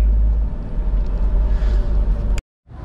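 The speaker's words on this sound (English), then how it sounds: "That noise, we have to get the front wheel bearings." A 2011 Toyota Hiace with worn front wheel bearings gives off a steady low rumbling drone while driving, loud and continuous, then cuts off abruptly near the end before resuming faintly.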